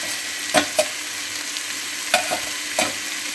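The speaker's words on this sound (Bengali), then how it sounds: "অ্যাকচুয়ালি আমি ছাতুটা ভাজাই করছি" Straw mushrooms, washed and coated with salt and turmeric, fry in a pan with a steady, dense sizzle, broken by a few louder scraping stirs. Nobody speaks.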